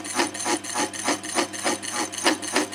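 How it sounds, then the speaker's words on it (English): A milling machine with an eighth-inch slot mill cuts a groove in a steel piston held in a three-jaw chuck on a dividing head, producing a steady, close, rhythmic rasping chatter that pulses about twice a second, with no talk. "I'm cutting the groove in where the rod goes in for the pivot point on the pump handle"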